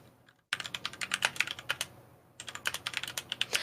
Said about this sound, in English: you guys can hear me typing